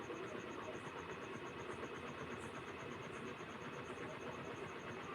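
A sewing machine stitches lace onto a sleeve, giving a continuous, faint mechanical whir with a fine rapid rhythm that holds steady throughout, without any voices.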